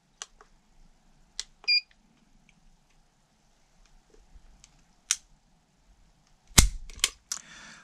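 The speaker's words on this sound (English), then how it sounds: "we're gonna look at the double action trigger pull" Beretta 92G Elite LTT pistol dry-fired in double action, with a few sharp isolated clicks spaced through near-silence and a louder cluster of mechanical snaps near the end, close up.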